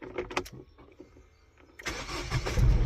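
A Citroën C4 Picasso with a faulty ESP system starts on the turn of the key: a few clicks and cranking sounds, then a brief quiet, then the engine catches and settles into a loud, steady run.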